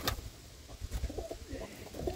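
Pigeons and wood pigeons gather at a covered grain feeder and give low, soft coos in short repeated bursts, close by, over a muffled outdoor background.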